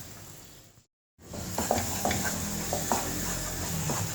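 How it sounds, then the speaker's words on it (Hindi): Coconut halwa mixture with milk solids being stirred in a pan, giving soft scraping and stirring strokes with a faint sizzle under them. A brief silent gap comes early, then the stirring carries on steadily to the end. "अच्छी तरह मिक्स कर लें ताकि इसके जो दूध की गुठलियाँ वगैरह हैं वो मिक्स हो जाए"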